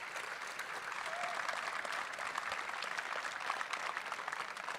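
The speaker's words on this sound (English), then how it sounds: "Let's give them a round of applause, please." An audience at an esports state tournament opening ceremony claps in a steady round of applause, fairly faint and distant, lasting throughout.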